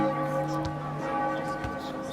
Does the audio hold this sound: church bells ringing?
yes